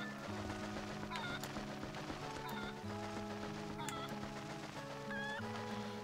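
A chicken from the video game The Legend of Zelda: Twilight Princess HD clucks and squawks in short repeated calls over a steady looping game music track, all fairly quiet.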